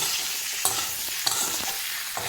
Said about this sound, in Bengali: এইবার এটাকে আমি ভালো করে ভেজে নেব।